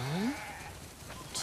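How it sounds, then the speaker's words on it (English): Sheep in a barn in the video game The Last of Us Part II: one rising bleat at the start, followed by quieter ambient game sound and a brief noisy burst at the end. "Wow. That's a lot of sheep."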